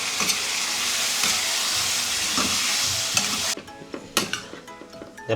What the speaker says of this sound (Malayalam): പോർക്ക് ഇട്ടിട്ട് ചെറുതായിട്ട് ഇളക്കുകയാണ്.